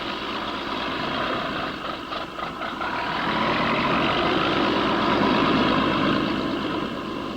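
Low rumbling drone of hydroplane racing boat engines warming up and slowly accelerating on the Harmsworth Gold Cup course in 1960, a continuous distant roar that swells gradually and holds steady throughout.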